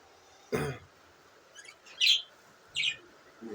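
A pet budgerigar chirps indoors, giving a few short, sharp calls spaced about a second apart, close and clear against a quiet background.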